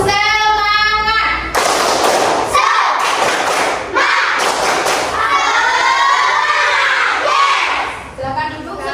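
A classroom of students does a spirited clapping cheer together. Loud, rhythmic group claps are mixed with shouted chanting voices, in a full, crowded room sound.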